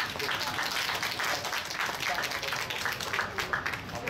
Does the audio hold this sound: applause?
yes